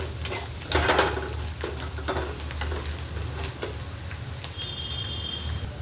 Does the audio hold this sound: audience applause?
no